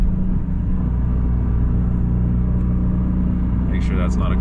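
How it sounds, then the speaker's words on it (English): Nissan GT-R running E85 accelerating hard in first gear, a loud continuous engine roar with heavy low rumble filling the whole stretch, brief high chirps near the end. "Let's do a little first gear rip."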